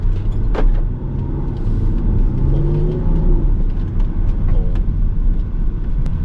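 BMW X5 F15 3.0d M Sport diesel SUV driving on an ordinary road surface, a steady low engine and tyre rumble that holds throughout, heard from inside the cabin with no talking.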